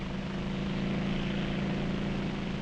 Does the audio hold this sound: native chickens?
no